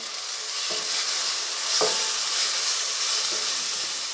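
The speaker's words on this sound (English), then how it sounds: "Saute this for a while, for at least 2 minutes, till the tomato is properly cooked." Chopped tomato and onion sauté together in a pan, an even, loud hissing sizzle running throughout with a few soft stirring knocks, close by and without speech.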